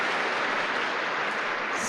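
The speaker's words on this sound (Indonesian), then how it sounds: "tepuk tangan buat Anda" A seminar audience claps steadily and densely for about two seconds, a continuous wash of many hands with no voices over it.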